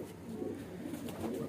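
Kalsire cross pigeons of the Tonk type, black-marked with black tails and kept as garra flying birds, give brief low coos in soft repeated pulses close by, with no voices.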